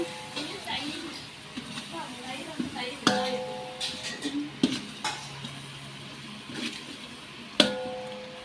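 Yogurt is stirred into a biryani mixture in a metal pot, with soft scraping and a few sharp clinks of the spoon against the rim, close by, while a voice talks over it.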